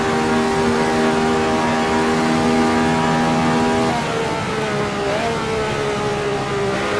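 A 1967 race car in Assetto Corsa screams at high revs in a steady, loud engine whine, then shifts gear with a quick dip in pitch before the note climbs again, alone without talk.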